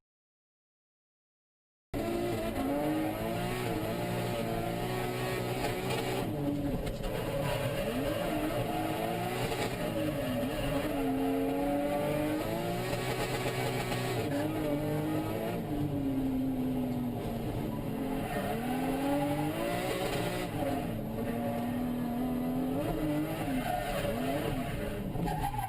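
A Nissan S13 drift car at Suzuka Circuit in 2012, its engine revving hard and continuously with rising and falling pitch, loud and close, running without pause after a brief silence at the start.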